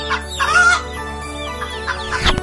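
Chicken clucking in short bursts at a market stall where a whole bird is being bought, fairly close and moderately loud, with a sharp noisy thump near the end.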